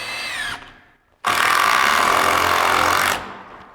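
A power drill drives screws into wood framing for a garage bathroom, a short whir, a pause, then a loud sustained two-second run up close.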